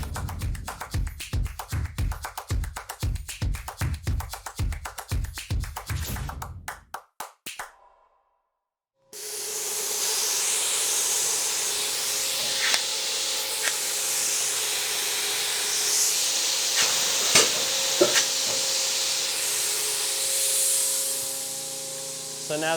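A rapid series of sharp bursts gives way, after a short silence, to a long, steady hiss of a spray gun applying ArmorThane coating, with a few faint clicks in it.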